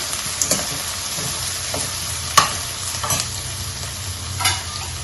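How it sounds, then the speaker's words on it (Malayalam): Thinly sliced ingredients sauté in an oiled pan for a salmon curry in coconut-cashew gravy, a steady close sizzle broken by a few sharp scrapes of a spoon stirring through the pan, with no talking. "നന്നായിട്ട് വഴറ്റിയെടുക്കാം"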